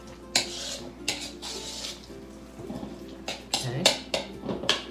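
Food being mixed in a bowl, clattering knocks and scrapes of a utensil against the dish in irregular bursts, with a voice speaking faintly in the background.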